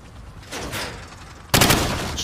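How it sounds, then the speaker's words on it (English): Rifle fire at range targets in Call of Duty 4: Modern Warfare, a quieter spell of shots followed by a sudden loud, sustained burst of close gunfire that runs to the end. "Now, shoot each target while aiming down the sights"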